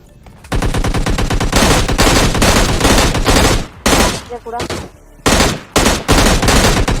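Loud, sustained bursts of automatic gunfire in PUBG Mobile Lite, rapid and relentless, broken by short pauses between volleys.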